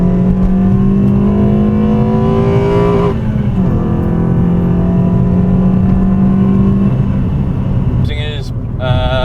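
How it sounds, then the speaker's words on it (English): A Renault Twingo RS hatchback engine revs hard and holds at a high, strained pitch, with harmonics climbing, then shifts and settles near the end; loud and close throughout. "Harsh rise, high revving engine"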